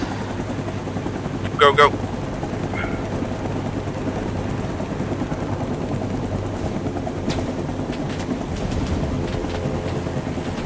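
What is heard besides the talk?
helicopter in the video game Rising Storm 2 Vietnam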